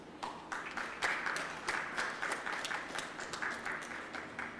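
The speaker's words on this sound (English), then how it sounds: "Final round of applause, please." Applause from a modest audience closing a panel on non-state actor commitments for nature: sparse, uneven clapping with individual hand claps clearly audible, moderately quiet and pulsing rather than a dense roar.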